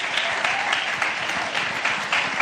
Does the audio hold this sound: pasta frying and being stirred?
no